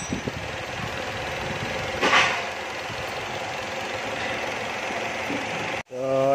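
A Ford Escape engine with a hard-start fault idling, a steady mid-level hum and light ticking that cuts off abruptly near the end as it is switched off.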